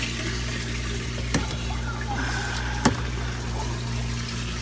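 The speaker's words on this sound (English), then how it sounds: "So now, water is flowing to the top." Water flows into fish tanks during a water change in a fish room, a low steady trickling wash under a constant hum, broken by two sharp knocks.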